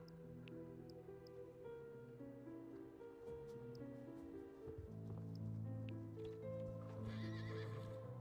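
Steady hoofbeats clip-clop beneath horse whinnies in the Star Stable video game, layered over continuous game music and ambient rustling, close and evenly loud throughout.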